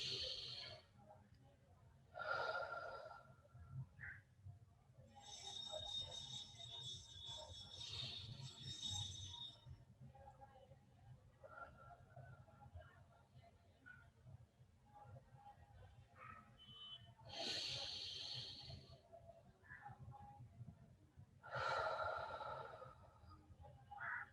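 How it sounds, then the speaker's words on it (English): Slow, deep breaths during a guided evening meditation, several soft breathy inhales and exhales spaced seconds apart over a quiet room hiss. "we'll take 3 nice deep breaths to help us just relax into this posture"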